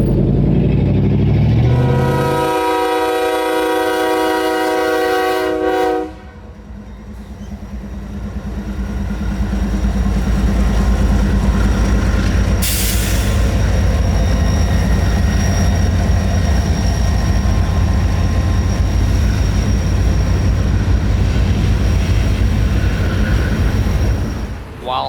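Train A782 creeping slowly down the line toward a stop at Lumberton, with a long horn blast near the start and a low rumble of rolling cars continuing beneath steady noise throughout.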